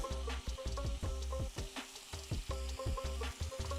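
Brined chicken breast pieces fry in a pan with fenugreek leaves, a dense crackling sizzle with rapid spattering pops throughout, close and continuous, with no talking.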